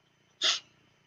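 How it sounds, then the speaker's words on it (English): A single person sneezes once, a short, sharp burst lasting a fraction of a second, close and clear against near silence. "I'm going to sneeze now."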